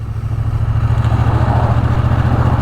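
A 2024 Triumph Bonneville T120 motorcycle engine runs steadily and close by, with a low, even, pulsing throb and a light mechanical clatter, heard alone.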